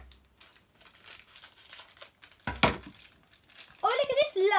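Crinkly plastic wrapper of LOL Surprise doll packaging being handled, with scattered crinkles, a louder tearing rustle, and a child-like voice talking near the end.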